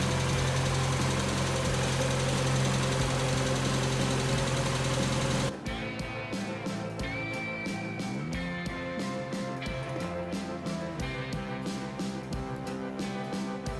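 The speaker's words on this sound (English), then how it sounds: "a typical lifter tick, but that does go away" A 1990 Mazda Miata engine idles with a lifter tick: a loud steady rumble, then a quieter stretch with a rapid, regular ticking clatter over the low hum, heard close and alone.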